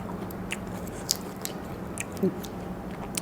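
Someone tears and bites into naem pop, a Thai fermented pork snack, giving soft close-up crunches and chewing sounds at a quiet level with scattered small clicks.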